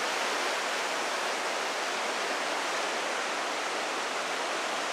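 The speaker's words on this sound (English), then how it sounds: "You can see the waterfall rushing by there." Johnston Canyon waterfall in Banff rushes in a dense, constant roar of white water, loud and even throughout with no voices.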